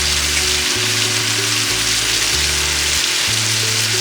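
Bacon sizzles and fries in a pan, a steady dense crackle spread across the whole stretch, close and fairly loud, with a low hum beneath and no talk.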